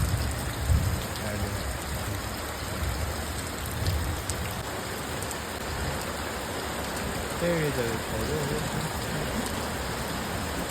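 Steady first-season rain falls on a village in Botad, a constant close patter under occasional talk, with a faint tonal hum in the background.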